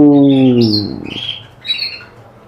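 A canary gives a loud, close harmonic squawk, then breaks into a few brief, high chirps, heard alone in quiet.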